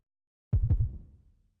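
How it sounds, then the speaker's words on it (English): A heartbeat sound effect from the video game Root Double, a single deep double thump followed by a second, low and heavy out of silence, with a short fading tail. "He heard the beating of a heart."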